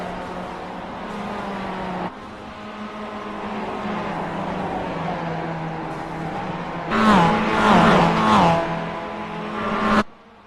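Race cars battling for the lead in a four-car fight late in a circuit race, engines droning steadily with a louder burst of revving and tire squeal as cars pass close, then cutting off abruptly.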